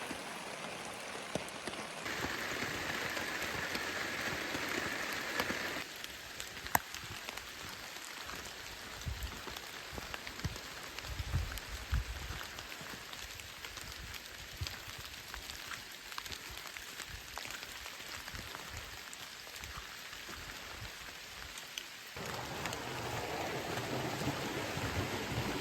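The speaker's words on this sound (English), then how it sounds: "But it's raining on top of that" Rain falls on a hiking trail on the Foothills Trail, a dense, even patter of drops that holds steady throughout, close and moderately loud with no voices.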